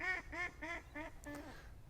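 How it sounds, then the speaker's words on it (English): A duck quacks five times in a steady rhythm, each quack a clear nasal call, fairly close but quiet, heard alone outdoors beside a Nissan Y62 Patrol touring vehicle. "I've said something to upset the duck."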